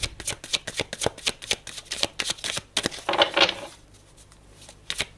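Tarot cards are shuffled by hand before three are drawn: a quick run of crisp, slapping riffles close up, then a denser rustling burst, a brief pause and a couple of final soft card taps.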